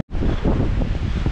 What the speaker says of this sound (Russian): потому что ветер прямо реально с ног сносит